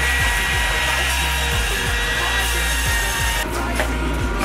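A router mills a foam insert for a Würth tool cart, a steady loud whining drone with rhythmic grinding strokes underneath, continuous and close throughout.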